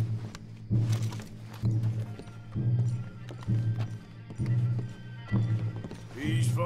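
Horses galloping in the video game Red Dead Redemption 2, a loud, regular rhythmic pounding of hooves repeating about once a second, with a low rumbling bed and a brief whinny-like cry at the end.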